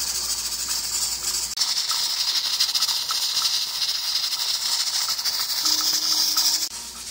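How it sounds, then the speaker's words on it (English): A pressure canner processing venison hisses steadily, with a bright continuous steam jet and faint rhythmic rocking of the weight, close and alone without talk. "Our pressure cooker has been gently rocking now for the last 75 minutes."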